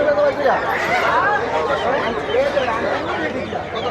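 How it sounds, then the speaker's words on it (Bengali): Chickens cluck and call at a busy traditional weekly village market, their calls mixed into a steady babble of crowd chatter and nearby talking that runs through the whole stretch. "হাটে মুরগি বেচা কিনছে পালন করার জন্য"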